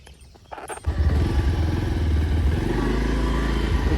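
A motorcycle engine starts up in a rural farm setting, catching with a brief clatter and then settling into a steady, loud, close-up idle throbbing for the remaining few seconds, with no talk over it.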